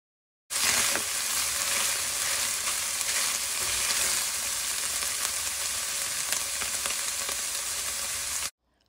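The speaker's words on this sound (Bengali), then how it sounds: "আধা কাপ ক্যাপসিকাম, আধা কাপ পেঁয়াজ কুচি দিয়ে আরও 3 থেকে 4 মিনিটের জন্য নেড়ে চেড়ে রান্না" Mutton keema with peas, capsicum and chopped onion stir-fried in a pan, giving a continuous, even, loud sizzle that starts abruptly and holds steady for about eight seconds before cutting off.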